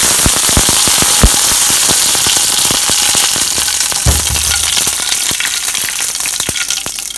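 A tadka of red chilies, mustard seeds and curry leaves spits in hot oil for sambar. It makes a loud, rapid string of close crackles and pops over a steady, dense sizzle that eases off slightly toward the end.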